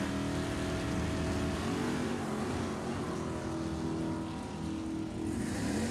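Loud, sustained roar of high-revving nostalgia drag racing car engines, steady and powerful with slight shifts in pitch as the cars pull away, one engine briefly hiccuping.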